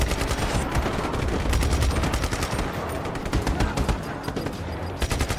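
Rapid gunfire and explosive bursts from the video game Just Cause 3, loud and continuous with dense overlapping shots and frequent sharp cracks throughout.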